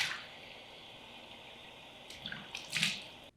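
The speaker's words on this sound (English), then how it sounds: "First, I wet my face with warm water." Warm tap water runs steadily while a face is splashed and wetted with it before cleansing, the stream constant and soft, with a few closer splashes and slaps of water near the end.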